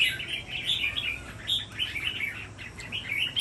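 A caged songbird offered for sale chirps in quick, bright bursts of close, high-pitched tweets and trills, sounding continuously against a low background hum.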